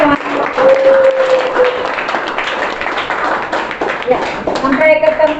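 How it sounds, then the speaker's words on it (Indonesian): A lecture audience at a teaching session claps together, a dense patter of hands that holds steady for several seconds with a few voices talking over it. "tepuk tangan untuk kita semua"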